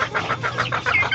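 Young gamecock chicks of the Bantex breed cluck in a quick series of soft, rapid calls, close by and busy, with no talk over them.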